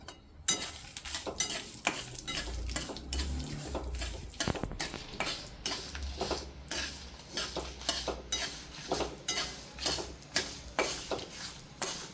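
Mustard seeds crackle and pop in hot oil, quick irregular snaps over a low sizzle, with occasional clinks of a utensil against the pan.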